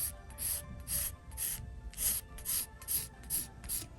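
A line is freehand-drawn on material for a DIY key holder and pouch wallet, heard as a run of about eight soft, rhythmic scratching strokes, close and fairly quiet with short pauses between them.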